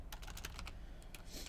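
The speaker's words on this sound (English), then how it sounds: "let me do a little bit of type in here." Keys clatter on a computer keyboard in a quick burst of close, light taps, a short flurry of typing over a faint steady background hum.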